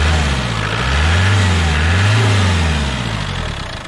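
A car engine with a completely clogged fuel decanter filter idles loud and close, a steady low drone whose pitch slowly rises and falls as it settles.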